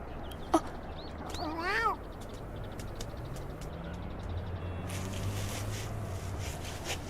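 A cat meows in a short, rising cry near the start, then a second wavering meow, fairly close and set against steady background noise with a low hum.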